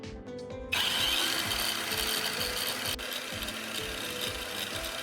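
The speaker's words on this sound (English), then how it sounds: "I'm continuing to work the knife edge against the rotating abrasive disc." A knife edge is held against the rotating abrasive disc of an angle grinder, giving a loud, continuous grinding whine with a rapid rhythmic mechanical pulsing that starts abruptly after a brief quieter moment and runs steadily without speech.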